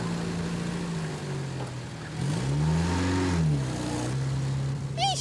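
A car pulls away with its engine revving, rising and falling in pitch as it speeds off nearby under a constant background rumble.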